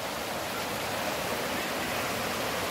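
A flood-swollen river rushes past a village where the water has swept away a bridge, a loud, steady broadband roar of fast-moving water that fills the whole clip without a break.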